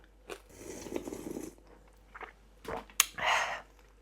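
Someone eats crispy pork with rice porridge, with a few close crunchy bites and chewing sounds separated by quiet pauses and no talking.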